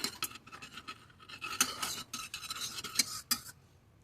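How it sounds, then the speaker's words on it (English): A spoon stirs a cream sauce in a saucepan over medium heat as it is brought to a boil, giving close, irregular scraping and clinking strokes against the pan with short pauses between them. "Keep mixing as you bring the sauce to boil over medium heat."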